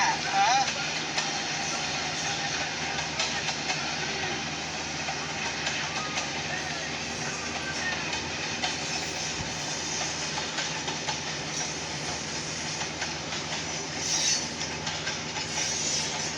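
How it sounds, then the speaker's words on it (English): A Norfolk Southern freight train led by GP38 and GP40 locomotives rolls past at a distance, a steady rumble and rail noise continuing throughout, with a voice talking over it. "Now, GP38, all right, and a GP40 trailing."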